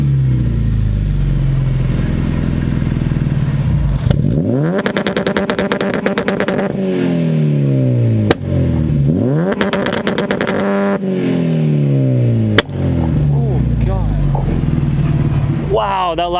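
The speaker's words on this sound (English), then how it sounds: "gonna do his two-step" An Acura RSX engine on two-step launch control revs hard over and over through a loud exhaust, popping and crackling in rapid stutters, with sharp bangs between bursts, loud and close.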